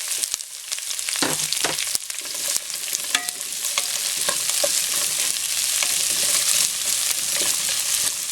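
Onion added to browning garlic sautés in a pan, giving a steady, continuous sizzle with intermittent stirring scrapes and clinks throughout.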